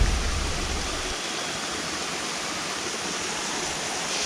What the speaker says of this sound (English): We made it to the top of the waterfalls.